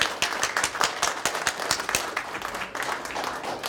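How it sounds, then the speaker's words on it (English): An audience at an engineering capstone presentation event claps, a dense burst of applause from many hands that stays steady, then eases slightly near the end. "Round of applause for SKA Company."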